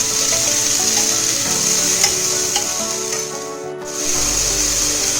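Masala pasta ingredients sauté in a pan with a steady sizzle and scraping stirs, loud and close, with a brief dip in sound near the end.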